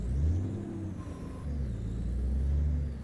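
A truck engine in Euro Truck Simulator 2 drones with a steady low rumble and slight rising and falling revs, loud and continuous with no talk.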